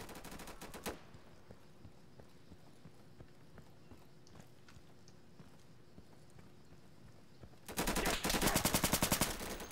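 AK rifle gunfire in the video game Insurgency: two rapid bursts of automatic fire, a short one at the start and a longer, louder one near the end, with quieter game ambience and footsteps between.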